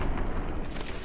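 A bomb explosion in Fallout 3, heard as a dense, loud, rumbling blast that fills the whole short moment with no speech.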